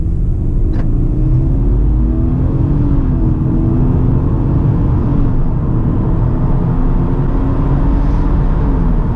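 A 2024 Subaru WRX with a CVT accelerates hard from a standstill to 100 km/h, a loud continuous engine roar with a rising drone and heavy road rumble, with no one talking.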